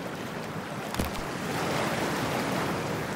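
Cold water waves in Cyberpunk 2077 washing and churning, a brief splash early on, then a steady rushing surge that swells slightly louder toward the end.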